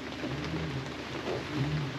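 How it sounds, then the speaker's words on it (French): Steady rain falls in the Amazon rainforest, a dense, even wash of drops that holds at a moderate level throughout with a low rumble underneath. "C'est bon, la pluie est arrivée."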